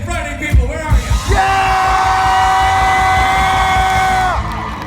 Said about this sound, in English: Scream for yourselves again.